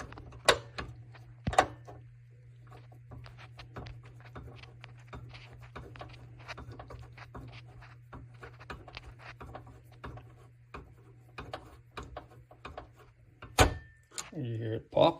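Dell T5810 workstation CPU heatsink retention clip snapping into place: a few sharp, close clicks stand out against a quiet, steady fan hum and light handling noise.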